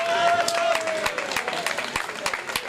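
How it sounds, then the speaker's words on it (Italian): Scattered clapping from an audience at the finals of the Italian bocce championships, held at Birreria Pedavena. Individual claps stand out with uneven timing, and voices talk over them throughout. "E mentre ricevono l'applauso"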